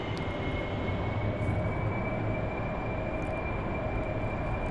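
An AV-8B Harrier jet in DCS produces a steady, loud engine roar with a constant high whine riding over a broad rumble, unbroken for the whole stretch.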